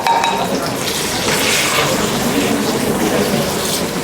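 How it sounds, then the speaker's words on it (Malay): Tomatoes sizzling and frying in a pan, a continuous crackling hiss at close range, with faint clinks of a utensil. "Kita goreng sekejap bagi dia lembut."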